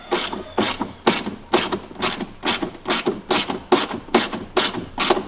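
Hand ratchet tightening 11 mm bolts on a Cummins engine cold air intake in a 2nd gen truck, a dozen crisp evenly spaced clicking bursts close up.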